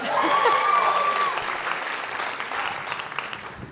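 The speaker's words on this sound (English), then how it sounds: "you can clap for him" A concert crowd applauds a performer at an alumni show, a dense wash of clapping that starts loud and eases slightly, with a brief whistle or cheer near the start.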